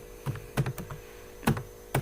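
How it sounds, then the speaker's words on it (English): A few distinct keystrokes on a computer keyboard while typing Java code, about five sharp clicks in two seconds over a faint steady hum. "we will type brand"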